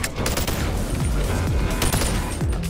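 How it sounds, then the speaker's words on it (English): Shotgun blasts in the VR shooter BONELAB, several loud booming shots spaced about half a second to a second apart over dense, continuous game noise with no talking. "I'm really enjoying this shotgun."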